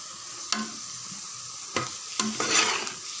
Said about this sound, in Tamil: சேர்த்து நல்லா கலந்து விடுங்க